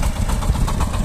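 Tractor engine running with a steady, dense low-pitched rumble and rough vibration throughout, loud and close with no pauses or voices on top.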